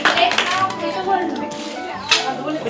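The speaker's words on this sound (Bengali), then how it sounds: "হাততালি দাও হাততালি দাও" Children clap their hands at a lively gathering, with scattered claps and a sharper burst near the end, mixed with chattering voices.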